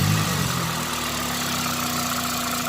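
A Toyota Corolla's engine, during a radiator replacement, runs at a steady close idle with a droning hum that shifts slightly as the throttle is flipped, on a cold day.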